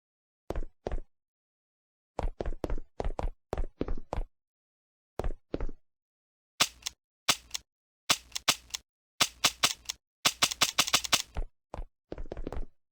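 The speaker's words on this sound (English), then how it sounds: "When the weapon's clip is empty, a sound will be played to notify the player to reload." Sharp, dry mechanical clicks of a video game gun firing with an empty clip, in short bursts separated by silence, growing into rapid clusters toward the end.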